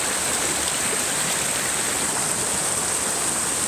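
A large stream flowing through pools and mini-waterfalls makes a constant, close rushing babble with bright splashing hiss, steady and unbroken with no voices.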